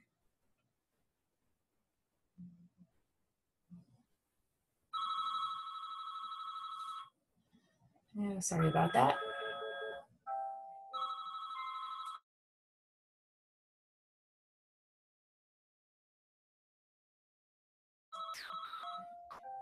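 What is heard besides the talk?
mobile phone ringtone ringing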